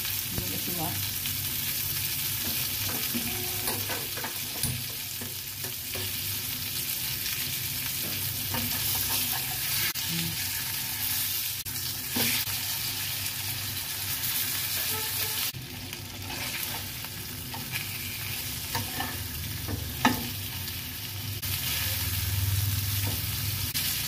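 Prawn-stuffed pomfret frying in a pan, a steady close sizzle with occasional scraping and stirring clatter throughout, moderately loud.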